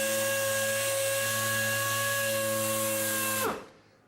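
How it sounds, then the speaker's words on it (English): A power sander wet sands a car hood with a steady, close mechanical whine that holds evenly, then spins down and stops near the end. "let the sander do the work"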